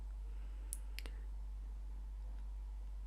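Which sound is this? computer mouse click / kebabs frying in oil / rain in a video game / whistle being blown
computer mouse click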